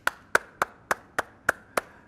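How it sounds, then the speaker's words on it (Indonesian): Seven sharp, evenly spaced claps for Bartimeus, made by one person or a small group in rhythmic unison, crisp and close with short pauses between them. "Kak Sani mau kasih tepuk tangan dulu buat Bartimeus."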